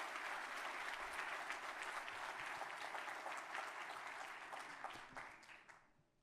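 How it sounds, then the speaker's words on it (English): An audience applauds a team at a university event, dense sustained clapping from a large crowd that holds steady and then tapers off toward the end. "Round of applause for our team."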